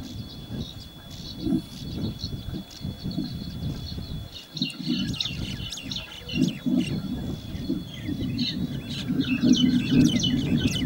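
Assorted birds chirp and call in the morning from several directions at Gulawat Lotus Valley, Indore, over a low, rumbling background, with scattered brief calls throughout.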